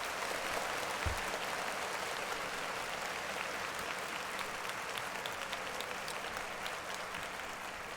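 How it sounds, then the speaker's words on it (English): A crowd at a service applauds steadily, a dense continuous patter of many hands clapping at moderate distance throughout, with no talk over it. "Clap it up for that man."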